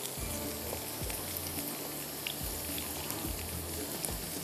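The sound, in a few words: food frying and sizzling in a pan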